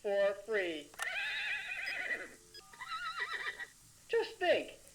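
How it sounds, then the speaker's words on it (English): A novelty horse clock sounding horse whinnies: several loud, close neighs in quick succession, each a shrill, wavering call separated by brief pauses. "every hour a different horse sound"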